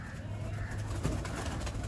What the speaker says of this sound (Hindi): बड़ा ए क्लास कबूतर।